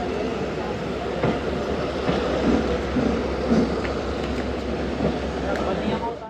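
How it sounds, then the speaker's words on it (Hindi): The Pak Express passenger train arrives at Khanewal junction with a continuous heavy rumble and faint wheel clatter, steady and close throughout. "साढ़े 8 बजे दोस्तों ट्रेन का अराइवल हो गया है"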